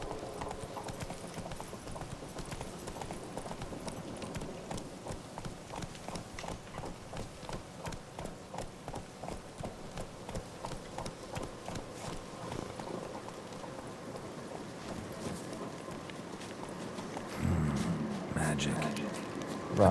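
Horse hooves from The Witcher 3 clip-clop in a steady, even gallop rhythm throughout, loud and close, with a faint whinny and some background noise late in the run.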